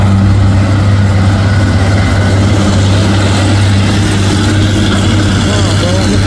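A brown 4x2 truck hauling iron rolls past with its engine running, a loud, steady low rumble that holds throughout, with someone talking over it.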